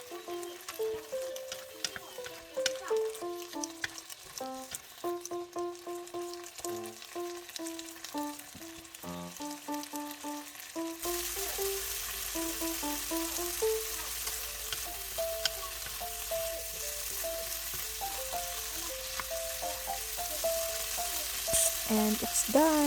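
Food frying in a pan for a Thanksgiving dinner, a soft sizzle that grows into a louder, steady hiss partway through, heard under gentle background music, with no talking.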